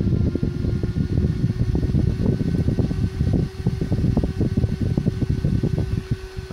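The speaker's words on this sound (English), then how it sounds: "you can actually hear the fan speeding up as well" A small electric fan driven by a PWM motor speed controller runs close and loud, whirring with a steady drone and a fluttering chop that holds throughout.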